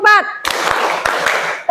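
A classroom of children claps hands in a counted rhythm, several sharp group claps following a teacher's spoken count, with voices before and after.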